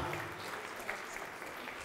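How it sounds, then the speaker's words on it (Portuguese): A church congregation applauding during a worship service, a continuous wash of clapping that stays fairly even and somewhat distant. "Vem aplaudir ao nome do Senhor conosco."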